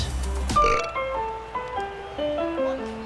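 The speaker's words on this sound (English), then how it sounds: "It's soon to be filled with the sound of belching." Belching sounds from a burp speaker, a long drawn-out burp with a rising and falling tone heard loud and close after a brief burst of noise.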